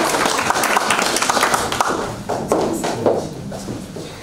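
Students clap at a school award ceremony for a reading competition: a dense run of hand claps, loud and close, that thins and fades toward the end.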